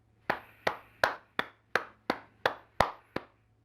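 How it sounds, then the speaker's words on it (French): One person claps alone, about nine crisp, evenly spaced claps at a steady moderate pace in a quiet room, close and fairly soft, each clap ringing out briefly before the next. "Eh bien moi, j'applaudis."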